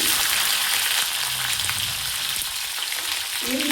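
Mustard seeds, a couple of dried chillies and onion frying in hot oil, giving a loud, continuous close sizzle with faint pops and spoon stirs, and no voices.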